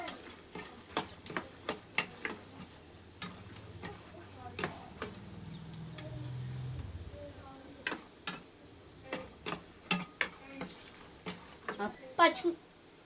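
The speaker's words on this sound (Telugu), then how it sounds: "పోపు దినుసులు వేసుకున్న తర్వాత మిక్స్ చేయాలి ఫ్రెండ్స్" Tempering spices and peanuts being stirred in a pan for lemon rice, with a string of sharp, irregular ticks and scrapes from the spoon, near and faint, and soft sizzling under it.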